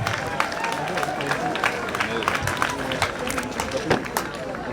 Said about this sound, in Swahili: Tupigie wanafunzi wa Maragi High School makofi.